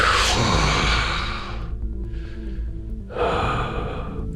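A voice imitates a bouncer's heavy breathing: two long, forceful breaths, close and loud, separated by a brief quieter pause.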